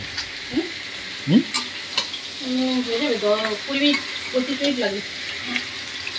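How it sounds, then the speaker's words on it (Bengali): Hilsa fish fries in a home pan with a steady, close sizzle and a few stirring scrapes, while a voice speaks faintly in the background midway. "এদিকে ইলিশ মাছ ভাজা হচ্ছে"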